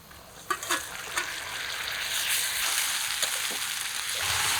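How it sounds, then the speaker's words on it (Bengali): A steady, fairly close sizzle as onions fry in a pan with a ground paste of ginger, garlic, onion, green chilli, cumin and coriander added, with a few clinks of stirring near the start. "পেঁয়াজটা লাল লাল করে ভেজে নিলাম এখন বাটা মশলাটা দিই"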